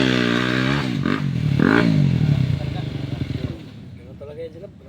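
Motorcycle engine revving close by, rising and falling in pitch for several seconds before dropping back to a rough idle, with voices talking over it.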